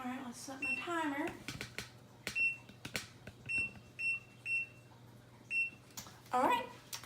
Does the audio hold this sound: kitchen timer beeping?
yes